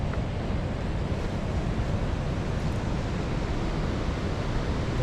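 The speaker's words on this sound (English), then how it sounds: "There's the waterfalls" Laitlum waterfall in Meghalaya during the rainy season, a dense, roaring wash of falling water that stays loud and unbroken throughout, with no voices.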